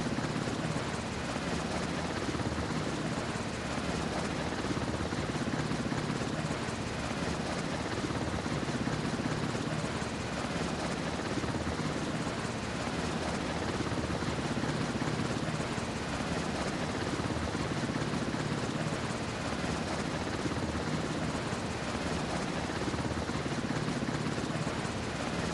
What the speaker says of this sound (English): Helicopter, ready for orders.